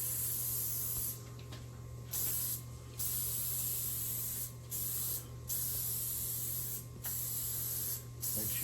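Spray paint hisses steadily while the upper cabinets inside a 1964 Airstream Globetrotter trailer are coated. The hiss stops briefly several times, with a low constant hum underneath throughout.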